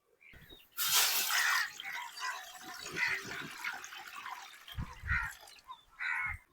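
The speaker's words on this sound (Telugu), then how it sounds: "నీళ్లు పోస్తున్నా." Water poured into a pot sitting on a stove, a dense splashing gush in the first second, then softer trickles and dribbles with a few renewed pours near the end, close by.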